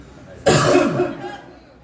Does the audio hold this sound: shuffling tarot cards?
no